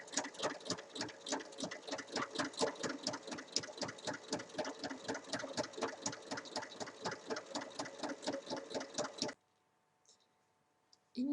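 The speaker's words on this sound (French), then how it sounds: "On va maintenant venir faire une surpiqûre de chaque côté." A sewing machine topstitches both sides of a zipper on a pouch with a steady, rapid run of rhythmic stitching clicks that lasts about nine seconds, then stops abruptly into near silence.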